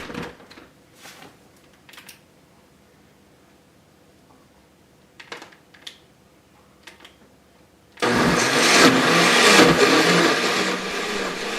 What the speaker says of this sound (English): just blend on whatever speed you feel like choosing